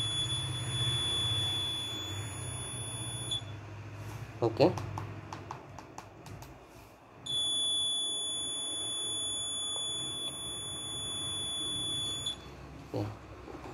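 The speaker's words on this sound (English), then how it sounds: "if I am giving wrong password, code incorrect, alarm on." Steep electronic alarm buzzer on a Raspberry Pi Pico keypad security system, triggered by a wrong password, sounds in two long steady stretches of about three and five seconds, with a short spoken word and faint clatter between.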